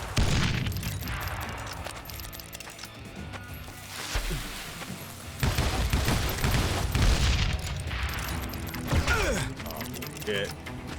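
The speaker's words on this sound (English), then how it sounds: "I'll use my fucking grenades." Grenade explosions in the video game Call of Juarez: Gunslinger: deep booms and blasts mixed with gunfire and mechanical clatter, loud and dense, with a voice talking over the action.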